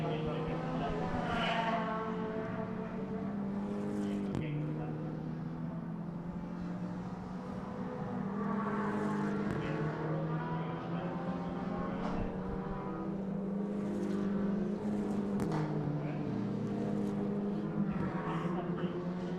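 Race cars stream past on a circuit during a club race round, a steady engine drone with rising and falling passes. A commentator talks continuously over the cars.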